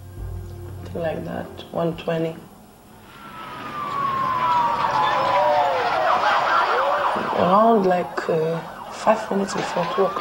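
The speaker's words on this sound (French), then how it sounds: "j'ai entendu les sirènes des ambulances" An ambulance siren wails with rising and falling tones, approaching and loud, while people talk intermittently over it before and after.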